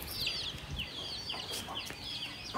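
A country hen clucks with her chicks, soft repeated clucks and high peeping chirps close by, steady over a low outdoor background.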